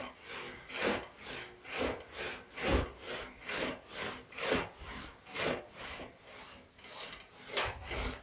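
An English wheel rolls a sheet metal fender panel for a 1940 Ford coupe-inspired build, making steady rhythmic rasping back-and-forth passes, about fourteen even strokes, close and clear.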